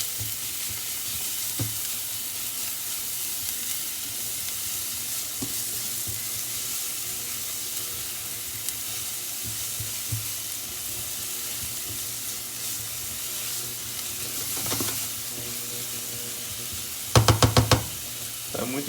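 Leeks sauté in a quality nonstick pan for a brie and leek risotto, a steady close sizzle and fry with occasional stirring knocks and a brief clatter of utensils near the end.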